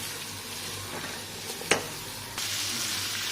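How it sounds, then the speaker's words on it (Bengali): Capsicum, tomato and onion frying in a pan, a steady close sizzle with a brief sharp clatter near the middle and the frying growing louder and brighter toward the end. "ক্যাপসিকাম আর টমেটো দিয়ে দিচ্ছি, পেঁয়াজ কাটাগুলো দিয়ে দিচ্ছি, দিয়ে ভালো করে একবার হাফ ভাজা করে নেব।"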